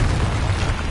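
A Confringo spell explosion in Hogwarts Legacy lands as one loud, dense burst with a heavy low boom that fills the whole moment, close and forceful, with no voices.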